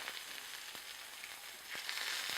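Pork tenderloin pieces, just turned over in a hot pan, send up a continuous soft sizzle with a few sharp spits and pops, heard up close and alone.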